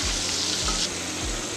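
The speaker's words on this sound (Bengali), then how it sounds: "পটলগুলোকে এপিট ওপিট করে কড়া করে ভেজে নিতে হবে।" Pointed gourd (potol) fries in a pan of hot oil for a Bengali recipe, giving a strong steady sizzle with a few faint higher squeaks and recurring low thumps beneath, without any speech.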